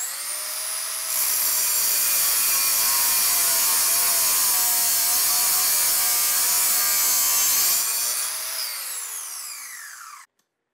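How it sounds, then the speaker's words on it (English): A compound miter saw fitted with a metal-cutting blade slices through threaded rod, a loud sustained high-pitched whine and grinding rasp that builds as the blade spins up, holds steady for several seconds, then winds down with a falling pitch. "I put my metal blade on my compound miter saw"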